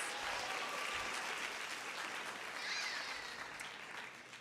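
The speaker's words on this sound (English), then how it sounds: "Lots of claps." Sustained applause from a crowd at a volleyball state championship ring ceremony, a steady dense wash of clapping that stays loud and fades slightly at the end.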